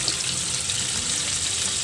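Cooking oil frying in a small pot, a steady close hiss and sizzle holding evenly throughout with no talk over it.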